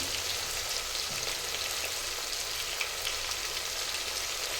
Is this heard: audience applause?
no